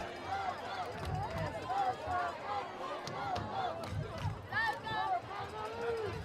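A high school football crowd cheers and shouts in the stands at a varsity game, a steady roar of voices with excited calls rising above it, loud throughout.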